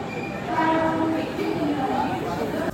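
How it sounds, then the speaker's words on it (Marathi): A train pulling into a station on a trip to Tirupati, a steady rumbling roar with droning tones running throughout, loud and close, with station crowd noise around it. "सो फायनली ट्रेन आलेली आहे."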